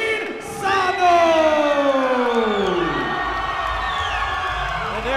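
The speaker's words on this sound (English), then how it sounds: "And there goes the crowd for Martin Sano Jr." A crowd at an MMA event in El Paso, Rocktagon 28, erupts in loud cheering and whooping for fighter Martin Sano Jr., with sustained rising and falling shouts that swell quickly, then hold strong before easing slightly.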